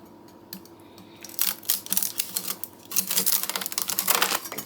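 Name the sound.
knife cutting dry ramen noodle block in half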